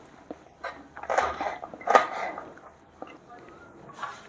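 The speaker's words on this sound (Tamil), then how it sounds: "இது முட்டைக்கோஸ் ரைஸ் அப்படி கிளறிடலாம்." A spoon or spatula stirs cabbage rice in a cooking pan, making a few scattered metallic scrapes and clinks of moderate loudness that rise and fall with pauses between them.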